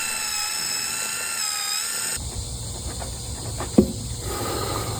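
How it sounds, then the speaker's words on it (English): Power drill with a regular bit spinning in a tire puncture hole to clean it out, a steady mechanical whine that shifts into a lower grinding buzz midway, with a brief sharp knock near the end. "a drill with a regular bit cleaned out the hole much faster and gave us a better surface"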